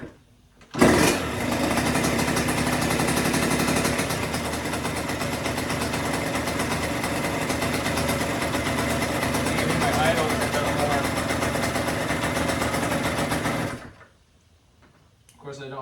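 A Yamaha YZ85 dirt bike engine, running with no air filter during warm-up, starts with a sharp burst and then holds a steady, loud, buzzy idle close by for about thirteen seconds before cutting off abruptly.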